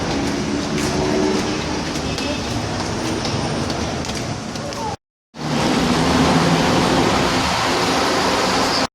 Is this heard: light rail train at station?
yes